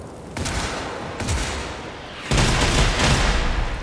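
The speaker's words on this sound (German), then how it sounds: "Ja, war noch eine Salve von mir." Assault rifle bursts from the video game Generation Zero, several rapid volleys of automatic fire that grow louder and denser in the second half, with no talking over them.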